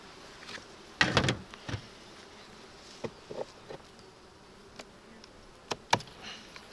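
Bees buzz around open beehives during a July hive inspection, with a low steady hum and several louder close passes, plus faint wooden knocks and scrapes from the frames.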